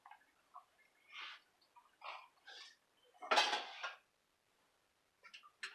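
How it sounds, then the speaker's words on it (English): A rubber scraper or wooden spoon scrapes and knocks against a pan in a kitchen, in a few short, separate bursts with quiet gaps between them. "And then you'll get your rubber scraper or your wooden spoon"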